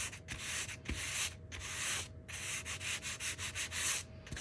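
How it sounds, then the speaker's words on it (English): Sandpaper rubs along the edges of a faux shiplap craft board in steady back-and-forth strokes, a soft, close, rhythmic scratching with short pauses between passes. "So now I'll just take my sandpaper and go around the edges"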